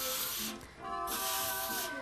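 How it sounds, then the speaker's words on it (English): Cooking spray hisses into the bottom of a lasagna pan in two short bursts separated by a brief pause, close and fairly quiet. "I'm going to put some spray in the bottom of the pan."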